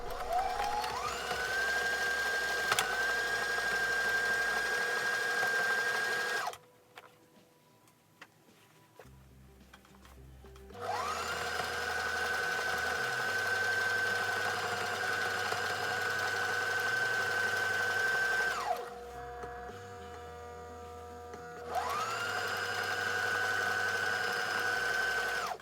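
A sewing machine stitches a T-shirt being upcycled into a corset-style top, its motor whirring steadily in three long close runs separated by short pauses, with no talking.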